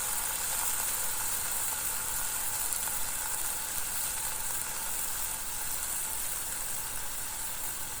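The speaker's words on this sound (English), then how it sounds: "Put a bowl over the hamburgers to cook them all the way through." Hamburgers cook under a bowl on a griddle, giving a steady, even sizzle and hiss that runs without a break at moderate loudness, with no talk.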